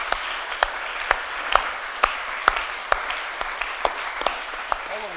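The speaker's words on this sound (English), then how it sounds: "You're going to have to keep clapping" An audience at a Stornoway event keeps applauding as Alec MacLeod, Chief Executive of the Stornoway Port Authority, walks on stage, a sustained crowd clap marked by strong rhythmic beats about twice a second.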